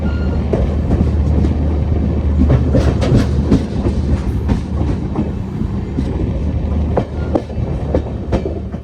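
Bharat Gaurav tourist train rolling on the rails, a steady loud rumble with rhythmic clickety-clack wheel beats throughout, heard from close by with no talk.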